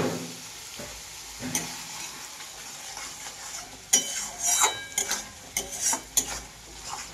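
Soft sizzle of spices frying in a pan after salt is added, then busier stirring with repeated scrapes and clinks of a spoon in the second half.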